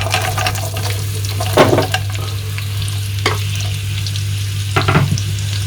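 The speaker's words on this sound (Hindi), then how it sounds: "इन चीजों को हल्का सा सौटे करके हम इसमें ऐड कर देंगे प्याज" Onions sautéing in hot oil with asafoetida, cumin seeds and a bay leaf, a steady sizzle broken by three louder scraping stirs, with a low hum running underneath.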